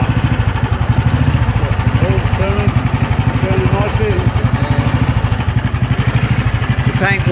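A 1955 BSA B31 350cc single-cylinder motorcycle engine runs from cold with a loud, close, steady thumping beat, while people talk over it throughout.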